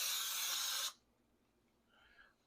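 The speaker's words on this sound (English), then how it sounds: "little pan spray on the other side" Cooking spray sprayed onto a pan, one loud steady hiss lasting under a second that cuts off sharply, followed by near quiet with faint kitchen noise.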